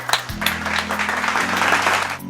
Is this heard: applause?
yes